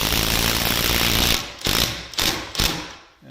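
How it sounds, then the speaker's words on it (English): Power driver running a screw into cabin kit timber, a continuous whirring burst followed by two or three short bursts as the screw is snugged down, close and loud. "Now I'll go and screw the other side."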